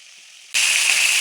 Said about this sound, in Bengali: দুই পাশ কি ভালো করে ভাজা নিতে হবে যাতে দুই পাশে সুন্দর মতো ভাজা হয়, এই জন্য দুই পাশই উল্টাই নিচ্ছি।